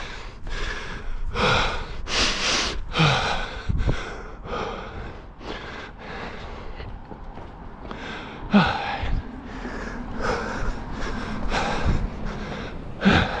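A runner in Tokyo breathes heavily during a recovery run, with repeated loud, close gasps and snorting exhales in an uneven rhythm and no talk.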